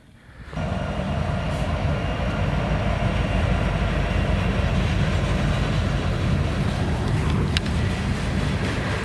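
A train rolls by at a distance on the Lake Superior shore, a steady, loud rumble and rattle of rail cars that builds quickly and continues without letting up.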